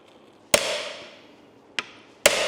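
A hammer strikes an impact screwdriver on a rusty old Yamaha motorcycle, three sharp metallic blows, each with a brief ringing decay.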